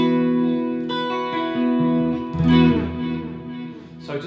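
Clean electric guitar played through a Kemper amp with reverb and delay engaged, sustained chords and single notes ringing out with echoing repeats, close and alone.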